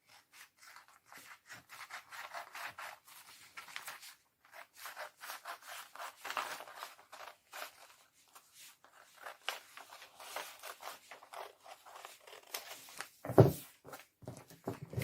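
Paper for a basic sleeve pattern is cut out with scissors in a rapid series of faint, close snips and rustles, ending in a louder crinkle near the close.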